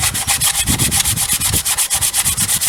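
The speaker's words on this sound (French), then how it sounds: "il va s'agir de faire le ponçage final. Toujours avec la cale à poncer." A sanding block works over dried filler in a final smoothing pass, making steady back-and-forth rasping strokes. The rhythm is even and repeated, close up and alone with no talk.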